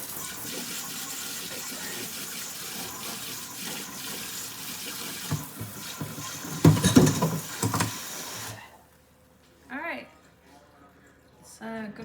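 Tap water runs steadily into a kitchen sink to soak salmon, a broadband wash that swells and splashes briefly before cutting off, followed by a short voice in near silence.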